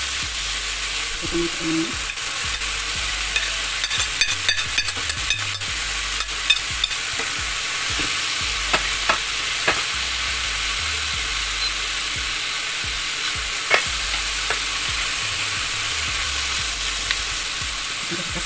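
Meat sizzles and crackles in a hot pan for nasi goreng, with scraping stirs and clinks of a utensil, while a voice briefly speaks over the steady frying.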